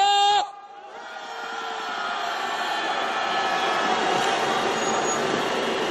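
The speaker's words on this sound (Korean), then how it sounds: "윤석열 정권에 대한 분노를 담아서 힘찬 함성 질러보겠습니다." At a candlelight protest march toward the presidential office in Yongsan, a brief amplified voice cuts off and a large crowd bursts into a sustained, roaring shout that holds strong to the end.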